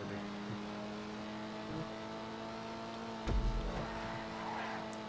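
Dinka Jester RR sports car in GTA racing along, engine humming and revving steadily with a sharp thump and tire scrub partway through, loud and close with no talk.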